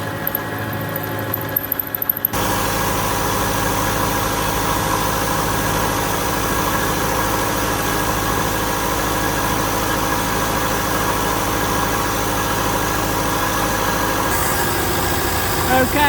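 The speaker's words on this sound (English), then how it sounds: "the noise of the milling machine and the compressor that's chosen to kick in" A manual milling machine makes a finishing cut on a custom Suzuki GSX part while a workshop air compressor runs, together forming a loud, steady mechanical drone that kicks in abruptly and holds with little change.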